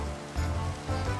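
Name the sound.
rain in Minecraft video game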